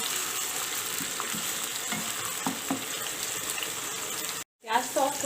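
Onions softening in a hot pan for a brain fry masala, a steady sizzle with occasional stirring scrapes, ending in a short silence before a voice speaks.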